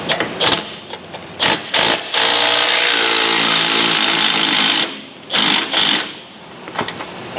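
A power tool, such as an impact or ratchet wrench, spins a 21 mm socket on the upper control arm bolts of a Ford F250, in loud close whirring bursts with a long sustained run in the middle and short pulses around it.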